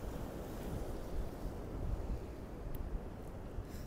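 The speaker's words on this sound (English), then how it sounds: "Certainly the sea is quite lively though." Lively, choppy sea waves break and churn against the shore on a chilly day after a breeze has dropped, a continuous rough wash of surf with low buffeting rumbles and no voices.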